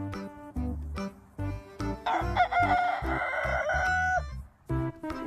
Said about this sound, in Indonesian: Wis ayam jago teman-teman